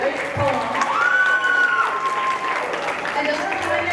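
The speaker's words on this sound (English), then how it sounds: "Let's give another round of applause to Omar Alvarez for his great poem" An audience at a poetry night applauding and cheering after a poem, a steady crowd clapping with whoops and a rising voice over it, as a presenter talks through the noise.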